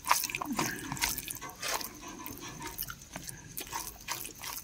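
Water poured into a cooking pot while salt is added, a soft splashing and dripping trickle that comes and goes, fairly faint and close, with some background noise.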